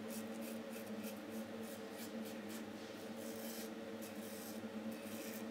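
A Schick Injector Razor Type M scraping over a lathered face with a light touch, giving steady close rasping strokes in a quick, even rhythm with no talk.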